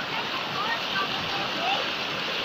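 Steady broadband rush of river water flowing on the Rio Margarida, constant and close with no breaks, a continuous wash filling the whole clip.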